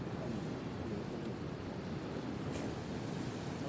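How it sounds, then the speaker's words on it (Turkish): A steady, broadband roar of sea waves and surf on a Black Sea shore at Tekkeönü, Bartın, continuous and moderately loud, with wind buffeting the microphone. "Dalga var"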